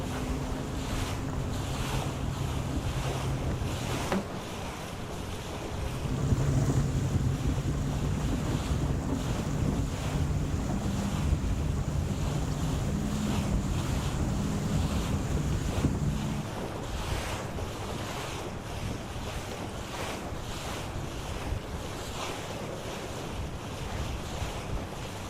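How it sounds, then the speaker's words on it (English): Steady wind and breaking waves on open water during a 52 Super Series sailing race off Saint-Tropez, a continuous broadband rush with louder surges midway, no voices. "The wind's building a little bit."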